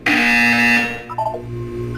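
A harsh, loud electronic buzzer from the Portal 2 video game sounds for under a second, then cuts off, followed by faint tonal game sounds and a low hum.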